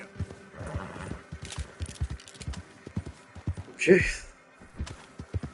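Horse in Red Dead Redemption 2 galloping with rapid rhythmic hoofbeats and letting out one loud whinny midway, all close, with a person speaking briefly over it.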